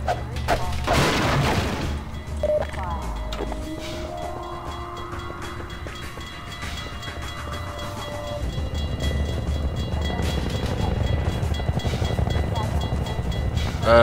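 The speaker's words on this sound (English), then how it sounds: "apparently that train has glitched" A glitched train rolls along rails in the Half-Life 2 video game, a loud, sustained metallic rumble with screeching tones and a few heavy clanks, steady and close for the whole stretch.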